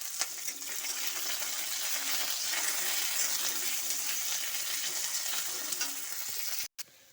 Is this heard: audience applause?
no